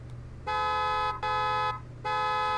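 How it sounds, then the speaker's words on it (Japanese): Car horn in the video game Knives Out sounds in three bright, steady blasts, two close together and a third after a short pause, over a low engine hum. "さあ、クラクションどうでしょうか"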